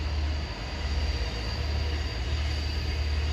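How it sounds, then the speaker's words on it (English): Diesel commuter train 515 from Oyster Bay rolls toward Mineola with a continuous heavy engine drone and wheel noise on the rails, loud and close throughout. "the rush hour is winding down now pretty much with this diesel train"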